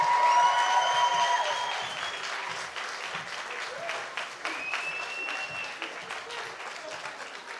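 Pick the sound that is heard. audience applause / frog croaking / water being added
audience applause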